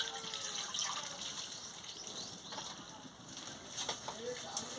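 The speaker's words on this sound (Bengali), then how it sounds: "জল দিয়ে দিচ্ছি।" Water is poured into a kadai set on a lit stove for a papaya curry, giving a steady, faint liquid splashing and trickling against a background hiss, with someone speaking softly.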